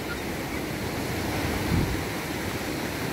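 Sea waves wash onto the sand at Suan Wang Kaew beach in Thailand, a steady broadband surf rush with a slight swell of a breaking wave midway, no one talking.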